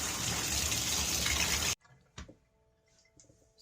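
A bathtub faucet runs in a steady, full gush for under two seconds, then shuts off abruptly, leaving a near-silent room with a few faint drips and clicks.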